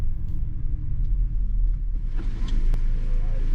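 A Ford Ranger Raptor 4x4 drives through a sand obstacle off-road, its engine a loud, steady low rumble heard from inside the cabin, swelling slightly as it pushes on.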